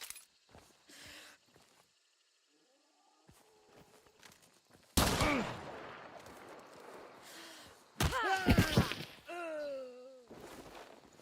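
In the video game Control, a flashbang goes off with a sharp burst, followed by rapid gunfire and impact crackles, loud and close after a quieter stretch of scattered clicks and movement.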